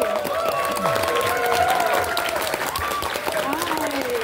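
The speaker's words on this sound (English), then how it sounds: "Please give a big round of applause for Big Jim Miller and." Audience applause and cheering at a pony fan convention as guests are called to the stage, forming a loud, continuous crowd wash with whoops and voices talking over the clapping.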